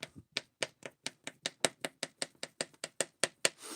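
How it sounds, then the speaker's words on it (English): Meat is chopped in a pot in a steady run of about fifteen crisp, evenly paced knife strikes, close and fairly clear, with no talk. "So there's a little bit of a chopping."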